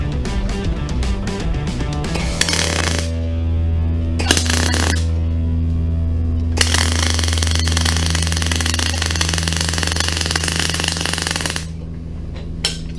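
An aluminum weld runs as a loud, steady buzzing crackle close up, with a deep machine hum underneath that starts and stops between passes.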